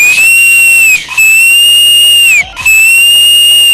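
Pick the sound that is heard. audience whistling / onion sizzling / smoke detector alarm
audience whistling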